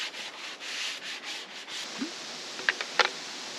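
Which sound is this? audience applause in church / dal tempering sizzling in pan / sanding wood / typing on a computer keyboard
sanding wood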